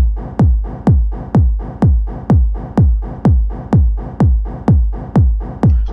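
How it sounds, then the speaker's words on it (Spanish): Techno kick drum in FL Studio with tempo-synced pre-delayed reverb hits about twice per second, each deep punchy thump followed by a swelling rhythmic reverb tail, loud and alone. "Y tiene que ser una reverb con ritmo."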